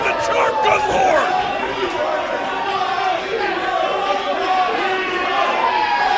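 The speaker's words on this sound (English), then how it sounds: "this FIP crowd calling for it 3rd time's a charm" A Full Impact Pro wrestling crowd inside a packed theatre roars and chants in a dense, continuous wall of voices, steady and loud throughout with no single speaker standing out.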